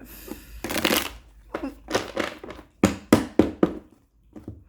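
Tarot cards are shuffled by hand in a run of crisp riffling bursts, some longer and some short and snappy, close up with brief pauses between them.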